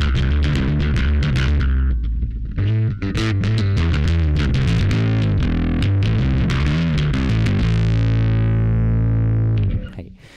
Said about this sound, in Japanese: かなり歪みが強いんですけども